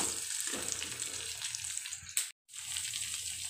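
Onions, crushed garlic and curry leaves frying in a pan for tomato curry, a steady close sizzle with one brief cut-out near the end and no talk.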